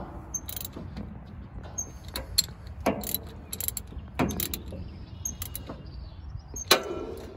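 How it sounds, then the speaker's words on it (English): Ratchet tightening nuts on a Japa 365 Pro log splitter, sparse metallic clicks and clinks at an irregular pace, close and fairly quiet. "now I'm going to tighten the nuts back up"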